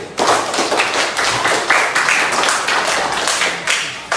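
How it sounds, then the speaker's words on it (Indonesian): An audience claps and applauds for a participant in a classroom coaching session, with dense, steady clapping that stays loud and close for about four seconds with no talk over it. "Tepuk tangan untuk Repandi."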